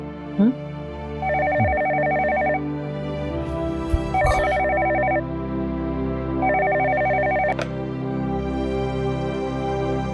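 An electronic telephone rings in three long warbling bursts, evenly spaced, over a low steady background hum.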